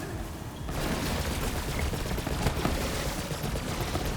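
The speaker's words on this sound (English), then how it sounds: "Just fire the flipper with its infinite ammo with bottomless mags" The Flipper gun fires nonstop in Borderlands 3, played as Moze with infinite ammo, a dense, loud, continuous barrage of rapid shots that fills the whole stretch with no gaps.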